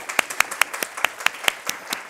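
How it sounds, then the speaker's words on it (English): Scattered hand clapping from a small group, sharp individual claps in a loose rhythm, fairly close, with no talking. "Give them a clap."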